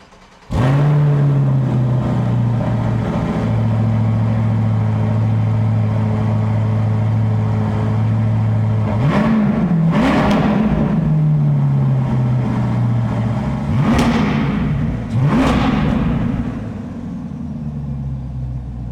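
A 6.7-liter V8 in a 2027 Chevrolet Corvette Grand Sport with performance exhaust fires up with a loud bark, settles into a steady idle, then is blipped in three sharp revs before easing back down, close and alone.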